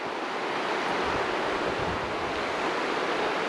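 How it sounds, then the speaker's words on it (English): A river near the Rothiemurchus forest campsite rushes steadily, a broad, constant wash of flowing water with some wind buffeting, and no talk over it. "Hopefully you can hear the river behind us."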